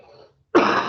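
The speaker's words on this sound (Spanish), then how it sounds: "me empezó un ataque de tos" A single harsh cough or throat-clearing burst breaks out abruptly after a moment of near silence, close and fairly loud.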